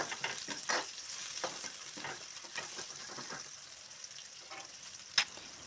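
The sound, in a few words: curry leaves, green chillies and onions frying in oil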